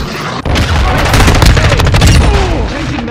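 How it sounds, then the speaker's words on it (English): Cruise missile strike in Modern Warfare II, a loud, sustained rumbling blast with dense crackling explosions filling the whole stretch after a brief opening pause. "Hostiles launched a cruise missile."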